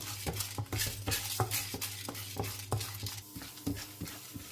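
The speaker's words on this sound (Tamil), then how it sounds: "நம்ம துவரம்பருப்பு இதில் போட்டு லைட்டாக வறுத்துக்கலாம்" Toor dal being lightly roasted and stirred in hot oil in a pan while making black chana soup. Repeated scraping strokes of a spoon land in a steady rhythm over a faint sizzle, close and fairly quiet.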